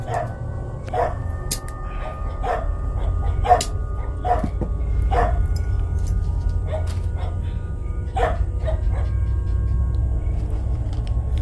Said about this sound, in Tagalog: Sensya na guys sa ingay ng aso guys kasi gabi na dito